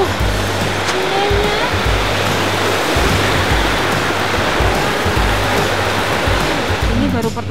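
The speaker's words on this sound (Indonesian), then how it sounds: "Wah, itu sungainya." A river near Grojogan Sewu waterfall rushes with a loud, continuous broadband roar, while people are heard talking faintly under it at times.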